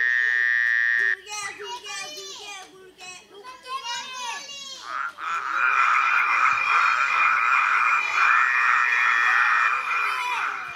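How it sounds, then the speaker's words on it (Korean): Swarm of frogs croaking in a steady, dense chorus that fills the second half, after a stretch of bright chirps and children's voices talking over a buzzy tone at the start. "개구리 떼가."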